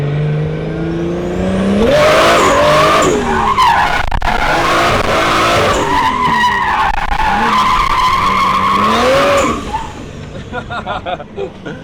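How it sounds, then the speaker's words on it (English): A drift car sliding around a compound course, with a loud engine revving up and down and long tire squeals and skids layered over it before the engine noise drops away near the end. "Like you could drift this whole thing, but I think Adam will get mad if I drift right here"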